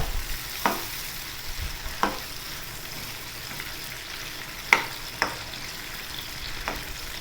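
Chicken karahi with tomatoes frying on a high flame, a steady close sizzle with a few sharp clicks of a utensil against the pan.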